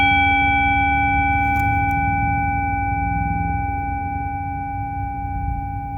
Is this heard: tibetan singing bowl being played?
yes